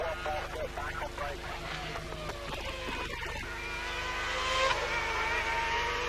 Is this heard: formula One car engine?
yes